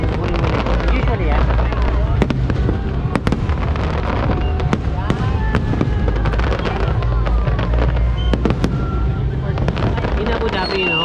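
Fireworks in the Philippines crackle and boom continuously, with dense overlapping bursts and sharp loud reports throughout, close and steady in loudness.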